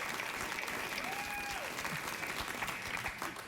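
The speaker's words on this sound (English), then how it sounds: "I don't quite know what you're applauding now." Studio audience applauding on a late-night talk show, steady enthusiastic clapping from a crowd throughout, with a brief tonal whistle-like sound partway through.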